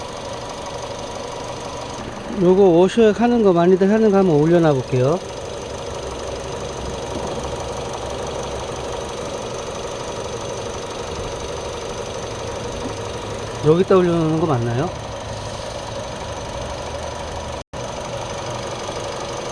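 A Renault Samsung New SM5 car engine with about 150,000 km idling with a steady low rumble and faint vibration, while someone speaks briefly twice over it.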